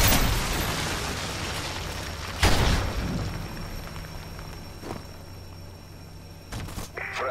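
A loud Predator missile explosion in Modern Warfare 3 bursts near the start with a heavy boom, followed by a rumbling tail and further sharp blasts and gunfire pops later on.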